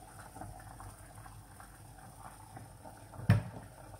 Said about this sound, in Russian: Вода в кастрюле закипела